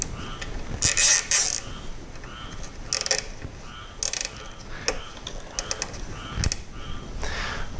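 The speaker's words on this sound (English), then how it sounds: "take a cable tie, to tether the cable to the cable clip here" A plastic cable tie is ratcheted tight around a cable to tether it to a cable clip, giving several quick bursts of close zipping clicks separated by short pauses.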